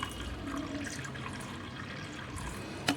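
Water is poured into a fighter fish breeding tank in a steady, close trickle and splash that runs alone and continuously, ending with a brief louder splash.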